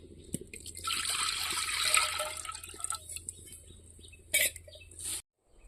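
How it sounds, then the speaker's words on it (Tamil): Water poured from a vessel into a pot set on a village cooking stove for ragi kali, a steady splashing pour for about four seconds, close and fairly quiet, ending with a few brief splashes. "தண்ணி தேவையான அளவுக்கு ஊற்றிக்கலாங்க."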